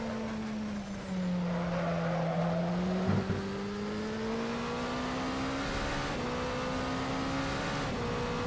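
A racing video game car engine drones steadily throughout, its pitch rising slowly as the car pushes on while still cold, with a brief tire squeal or skid around the middle.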